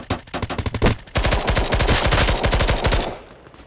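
Rapid automatic gunfire in the mobile shooter Bullet Force, a short burst followed by a long, loud, sustained stream of shots that cuts off near the end.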